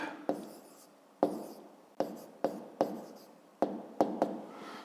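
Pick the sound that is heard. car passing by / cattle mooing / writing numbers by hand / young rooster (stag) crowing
writing numbers by hand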